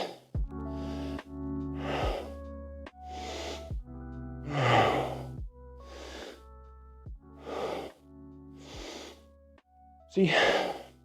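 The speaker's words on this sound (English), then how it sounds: "Breathing hard means you're putting in the effort" Heavy, labored breaths from a person recovering after a walking workout, with loud gasping inhales and exhales repeating roughly every second or two over a steady low hum, no speech.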